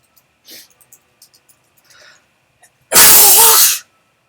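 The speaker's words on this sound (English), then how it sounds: "that's a very loud sneeze" A single very loud, explosive sneeze bursts out close to the microphone and lasts almost a second, after a few faint breaths and small mouth noises in an otherwise quiet room.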